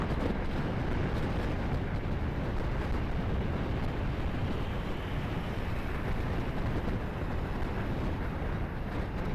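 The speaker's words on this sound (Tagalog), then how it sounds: "Lakas talaga ng hangin." Strong wind roars across the microphone while riding a Suzuki Burgman Street EX scooter, a constant loud low buffeting rumble that never lets up.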